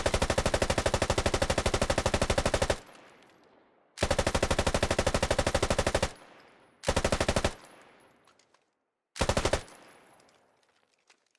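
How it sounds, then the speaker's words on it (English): RPD belt-fed machine gun firing in the game Squad: four sustained automatic bursts, the first two long and the last two short, each ending in a fading echoing tail, loud and with no voices. "Next we have a kit featuring the RPD, a belt-fed machine gun."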